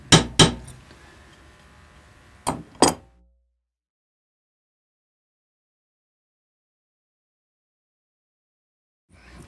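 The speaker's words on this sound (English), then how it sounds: "you got to have enough to move the scissor when you hammer on it" A small hammer taps a scissor blade during sharpening, giving two quick metallic clinks, then two more a couple of seconds later, each bright and ringing briefly, followed by silence and a faint knock at the very end.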